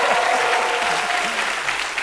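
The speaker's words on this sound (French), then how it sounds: "vous méritez une pluie d'applaudissements." A studio audience at a French midday TV show claps in steady, close applause, with faint voices and a brief cheer mixed into the crowd noise.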